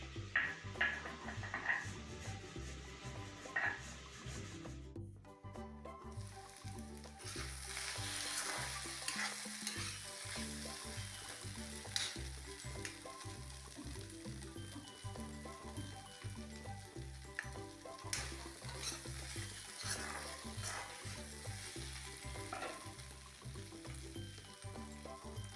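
Bhaji is fried with kalonji in a pan over a gas flame, giving a soft steady sizzle. Gentle scraping and stirring sounds repeat throughout, quiet and close.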